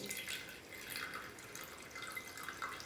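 Liquid drips softly into a glass beaker while silver recovered from electronic circuit boards is filtered, a faint, steady trickle with a light hiss and no voices.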